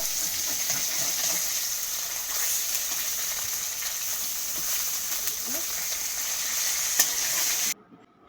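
Fish pieces cook in a pan of turmeric, chilli and salt mixture, giving a steady, close, broadband sizzle with faint stirring. The sizzle runs continuously for about eight seconds, then cuts out abruptly near the end.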